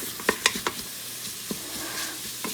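Half an onion and the white part of a green onion sizzle softly in an Instant Pot for fried rice, with a few sharp stirring clicks early on over a steady frying hiss.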